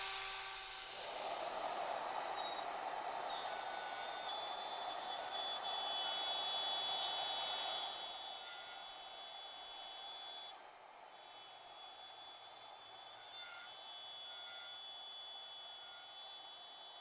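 A Shaper Origin handheld CNC router cutting a quarter-inch-deep pocket into a workpiece, a continuous high whine with a steady cutting roar that eases and dips slightly toward the end.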